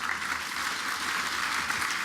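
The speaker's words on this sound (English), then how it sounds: "Give them a round of applause." Applause from a seated audience at a privacy forum on data and algorithms, a steady wash of many hands clapping that holds evenly throughout without breaks or talk.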